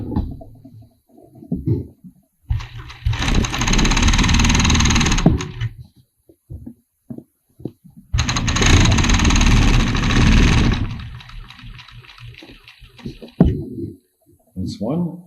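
A serger overlock machine stitches t-shirt shoulder seams in two dense, steady whirring bursts of a few seconds each, close and loud, separated by quieter handling noises and some talk.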